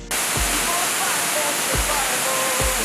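A loud, constant roar of a jungle waterfall on Dominica fills everything, close and unbroken, with a few faint low thumps underneath.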